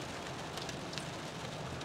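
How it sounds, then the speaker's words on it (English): Rain patters and hisses steadily during a drive on a state highway in Michigan's Upper Peninsula, passing a small town, with a few sharper drop spatters standing out from a faint, even wash. "Obviously, we're dealing with rain."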